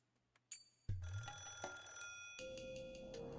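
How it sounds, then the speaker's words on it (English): A telephone rings in the Higurashi: Meakashi visual novel: a short click, then a loud, steady electronic ringing tone that changes pitch partway through and plays alone, with no voices. "As soon as I put the phone down, it rang again."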